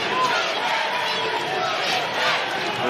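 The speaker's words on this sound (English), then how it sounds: "loud as this crowd has been here at the Elam Center in Martin" A packed basketball arena crowd at the Elam Center in Martin, Tennessee roars loudly and steadily during a one-point college game between TSU and UTM, a dense sustained cheer with no letup.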